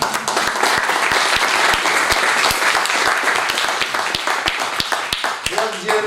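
An audience claps for a mother at a Legion of Honour ceremony, with several sharp, distinct hand claps standing out over a steady wash of applause and some talking mixed in.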